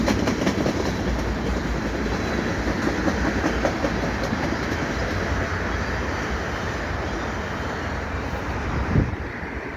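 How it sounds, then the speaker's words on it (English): A westbound CN freight train rumbles steadily past a footbridge at Beaconsfield with continuous wheel noise and faint clickety-clack, a long, even roar of rail cars at moderate distance, its end approaching. "So the end of this train is coming up though."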